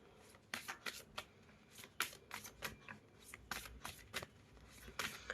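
Moonology oracle cards shuffled by hand, a quick series of soft riffling bursts and taps repeating irregularly, close and fairly quiet, with no voices.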